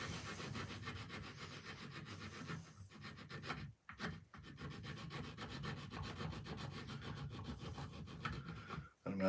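Hand-smoothing the forehead of a wood carving with a rasp or file, a steady dry scraping and rubbing that continues close up and fairly loud for most of the time, broken by two brief pauses.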